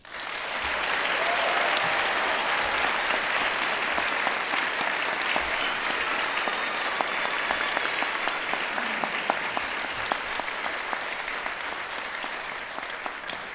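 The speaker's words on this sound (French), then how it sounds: "il est temps d'applaudir chaleureusement les nouveaux docteurs" Sustained audience applause at a university science faculty graduation ceremony, 2021, honouring new doctoral graduates; dense, steady clapping from a large crowd, loud and continuous throughout with no talk over it.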